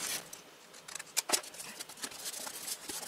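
Scissors snip through thin paper envelope pieces, several quick crisp cuts close up, with two sharper snips in the middle and no talking.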